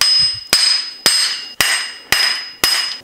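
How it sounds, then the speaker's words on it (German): A hammer taps a chain sprocket onto the engine shaft of a BMW Isetta during engine assembly: six sharp, evenly spaced metallic strikes about half a second apart, each ringing briefly, close and loud with no talk. "dann klopfe ich noch."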